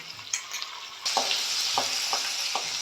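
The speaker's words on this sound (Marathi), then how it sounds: "फोडणी छान ढवळून घेते आहे" Spice tempering of turmeric, green chilli pieces, curry leaves and ginger-garlic paste crackles in hot oil for besan pithla, the sizzle swelling louder midway while a spoon scrapes the pan in several distinct strokes.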